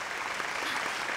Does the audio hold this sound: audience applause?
yes